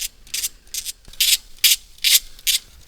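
A hand ratchet loosening the bolts of ignition coils on the rear cylinder bank of an Alpine A110 engine, bursts of rapid clicking in a steady back-and-forth rhythm, close and crisp, with no speech.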